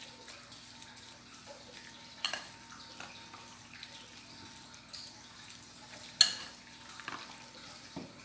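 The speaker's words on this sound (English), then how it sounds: "I will stir it again" Food being stirred in a pot on the stove, soft scraping and sloshing with a few sharper spoon knocks against the pot, fairly quiet and steady with no talking.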